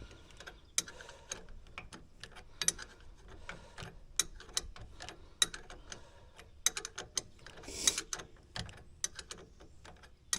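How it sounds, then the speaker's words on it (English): Tightening bolts during a spring mod on a Polaris Ranger 570 SP Premium: quiet ratcheting clicks and small metallic ticks in irregular bursts, close by, with no talk. "now we're going to tighten these bolts up and put the Allen bolt"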